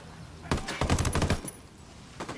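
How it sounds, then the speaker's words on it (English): Bursts of automatic rifle fire in the tactical shooter Ghost Recon Wildlands, a dense rapid volley followed by a pause and a shorter burst, close and loud without speech. "Open fire."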